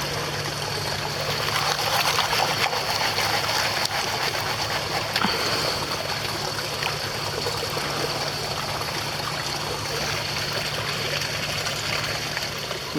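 Creek water flowing and trickling steadily over a streambed during gold prospecting, a continuous close rushing wash with a low steady hum beneath.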